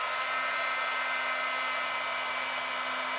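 A heat gun runs with a steady, close, hissing blow while melting embossing powder on a card, a constant airy whoosh carrying a faint hum and no talking.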